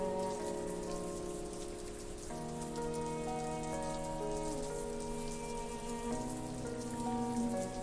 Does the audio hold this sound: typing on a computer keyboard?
no